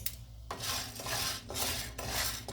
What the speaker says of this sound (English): I'm dry roasting 1 cup of chana dal